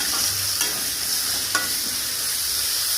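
Ground ginger garlic paste and onions sauté in a pan for a village-style spicy chicken curry, giving a dense, steady sizzle close up with a couple of faint spatula scrapes and no voices.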